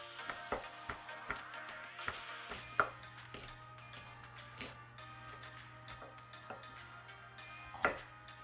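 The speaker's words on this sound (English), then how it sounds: "Now we are cutting up the sweet pepper." Knife chopping sweet pepper on a cutting board for Jamaican ackee and saltfish, a series of sharp, irregular taps close by over a steady low hum, with a couple of louder thuds standing out.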